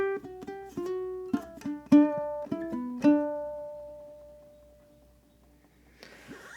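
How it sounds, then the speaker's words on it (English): Ukulele picks out a short melody phrase of plucked single notes and a few chords, in uneven rhythm, with the last note ringing out and fading alone; faint noise at the very end. "So let me go ahead and just play 5 and 6."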